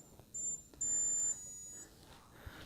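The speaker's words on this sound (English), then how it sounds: "And I heard a beep." Electronics on a Twisted Hobbys Puddle Star RC plane, just bound on DSMX, give two short high beeps, the second longer. They are clear and close in a quiet room.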